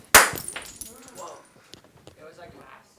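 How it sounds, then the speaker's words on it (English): A racquetball frozen in liquid nitrogen shatters like glass, one sharp, loud crack followed by scattered tinkling pieces settling, with a person talking faintly afterward. "Sounds like glass, looks like glass."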